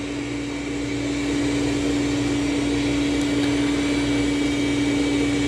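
A Dreame robot vacuum runs on its highest Turbo suction setting, putting out a steady, loud motor hum with a fixed tonal whine. The sound stays constant and close for the whole stretch, with no talking.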